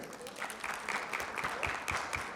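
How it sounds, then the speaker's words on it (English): A crowd claps steadily in a sustained round of applause, dense and fairly loud, with a few voices mixed in. "Round of applause for your board of directors"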